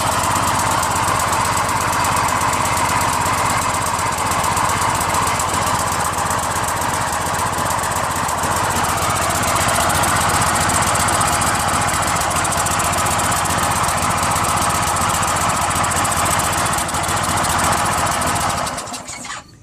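A small gasoline engine on an Excell VR2500 PSI pressure washer runs steadily after a pull start, a loud continuous rattling drone that holds for nearly twenty seconds before cutting out at the end.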